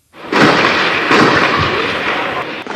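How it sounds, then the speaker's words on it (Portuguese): Heavy gunfire and grenade blasts during a rival gang's invasion of a Rio favela complex at dusk, a dense, loud barrage of booming bursts and crackling shots that rolls on continuously, with a second big blast about a second in. "Muito tiro, mano. Não faça a pedreira, mano. Não faça. Tiro, granada"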